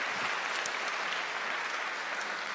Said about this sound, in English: How about a round of applause for Matt Visor for his excellent discussion.